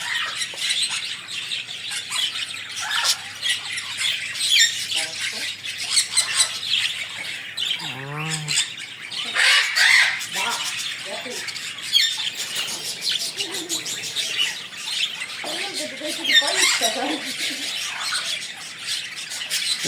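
Birds squawking at a bird zoo in Tallinn, a busy mix of harsh squawks, squeals and chirps overlapping near and far for the whole stretch, with no talk.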